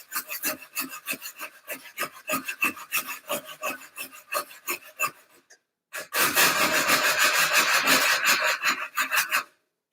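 Close, rhythmic sanding strokes rasp against a bamboo tube being mitred for a bike frame, pausing briefly before a denser, louder burst of continuous scraping.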